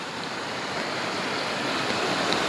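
Floodwater pours through farm fields after heavy rain, making a loud, continuous broadband rush that swells slightly over a few seconds.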